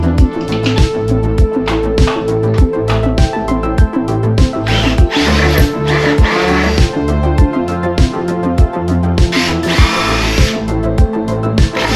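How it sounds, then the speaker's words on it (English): Power drill driving screws into a woodshop shelf, a loud, close run of short, repeated motor bursts and ratcheting whirs that rise and stop in a steady rhythm, with no talking. "2 drilled screws."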